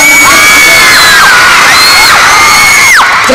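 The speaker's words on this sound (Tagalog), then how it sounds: "So lahat tayo sabay-sabay ha, papalakpakan nyo kasama sigaw." A large audience at a mall show at Market Market cheers and shouts together on cue, a loud, sustained wash of voices with high whoops and shrieks rising over it for several seconds.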